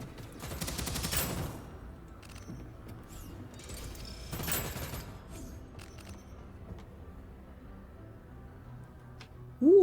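Bursts of rapid automatic gunfire from a gun in an indie shooter game, two loud fusillades early on followed by scattered shots, then a sharp tonal sound at the very end.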